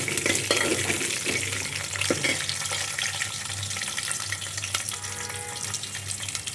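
Fenugreek and garlic fry in oil in a pan, giving a steady close crackle and hiss with occasional stirring scrapes and light clicks.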